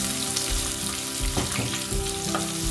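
Chopped onion going into radish frying with curry leaves in a pan, a steady close sizzle with scraping stir strokes throughout, no voices.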